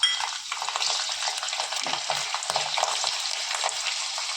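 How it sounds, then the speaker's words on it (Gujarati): Cumin, a pinch of asafoetida and ten to fifteen whole garlic cloves sizzle steadily in hot oil, a dense continuous frying hiss with faint stirring clinks, close and loud with no talking. "આ અડધી ચમચી જેટલું જીરું, ચપટી હિંગ અને આ જેટલી 10 થી 15 જેટલી લસણની કળી છે એ હું આખી નાખું છું"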